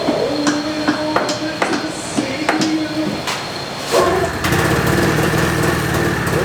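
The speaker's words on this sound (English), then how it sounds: "Turn the track by running the engine." Yamaha Exciter 570 snowmobile engine running on a stand, a rough, rattling idle with regular knocking beats that swells into a louder, steadier drone near the end.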